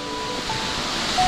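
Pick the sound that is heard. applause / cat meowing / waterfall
waterfall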